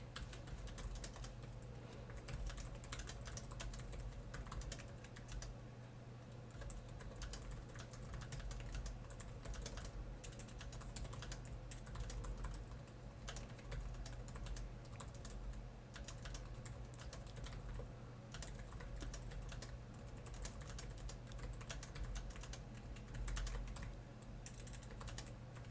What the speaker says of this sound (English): but we'll give it a quick type here.